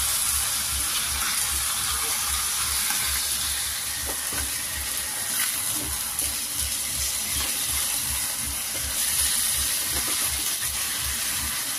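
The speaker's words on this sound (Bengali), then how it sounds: "ফ্রাই করছি ওখানে" Chicken pieces frying in a pan make a steady, close hiss and sizzle that holds evenly from start to finish, with a few soft stirring bumps.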